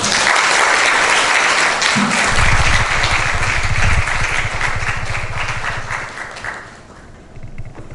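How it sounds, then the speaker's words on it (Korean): A large church congregation gives loud, sustained applause to welcome a visiting professor as guest speaker, the dense clapping running steadily before gradually thinning out near the end. "큰 박수 맞으십니다"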